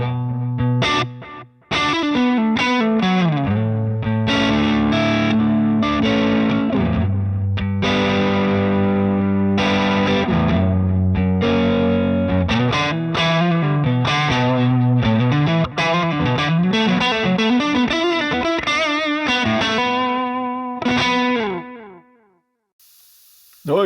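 Electric guitar played through a multi-effect pedal on an untouched stock preset, giving a heavily distorted, chorused tone: loud driving riffs and chords for over twenty seconds, alone, then cutting off into near silence.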